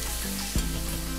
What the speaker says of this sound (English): Then we just need to sweat the onions.